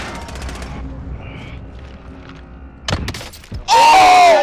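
Gunfire from Call of Duty Warzone comes as a short burst of sharp shots, followed by a loud, harsh crackling blast near the end.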